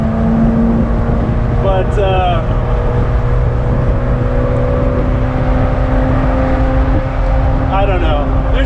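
A Ferrari 348ts engine cruising, a steady loud drone with a constant tonal hum and a deep rumble throughout, while people talk over it.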